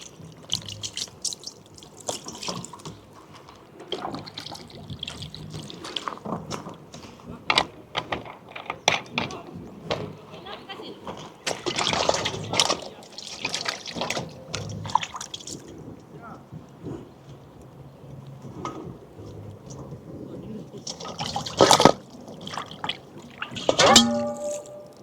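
Water splashes and drips while a whole chicken is washed in a kitchen before barbecue grilling, irregular close splashing and trickling with louder bursts, occasionally mixed with light handling noise.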